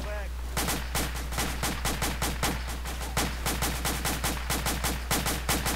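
Automatic gunfire in the military shooter Arma 2, a steady rapid string of evenly spaced shots after a brief opening moment, sharp and fairly close, carrying on without pause.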